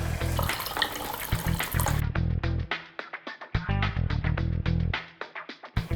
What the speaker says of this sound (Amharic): ከዛ ልክ እንደ ሽሮ ውሃ እንከልሳለን ማለት ነው።